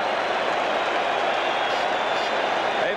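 A packed stadium crowd at a 1980 NLCS Game 5 baseball game between the Phillies and Astros roars in a dense, steady wall of cheering and applause, loud and continuous throughout.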